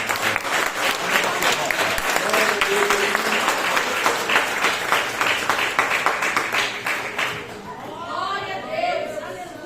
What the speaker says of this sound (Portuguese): as palmas louvam ao Senhor Jesus